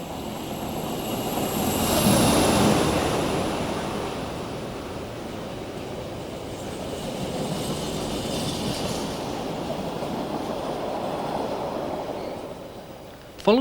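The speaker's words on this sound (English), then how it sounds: "Emerging from Primrose Hill Tunnel is the Purfleet to Crewe freightliner." Freightliner freight train bound from Purfleet to Crewe emerging from Primrose Hill Tunnel, a steady broad rumble with a swell near the start and sustained wheel and engine noise throughout, no talk.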